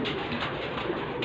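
A pigeon cooing close by, a soft continuous throaty coo over faint background noise, brief and alone.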